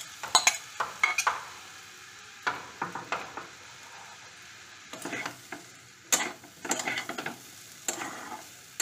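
Jackfruit seeds and potato pieces being stirred into spiced fish roe in a pan, with repeated scraping and clattering bursts of a spoon against the metal over a faint sizzle.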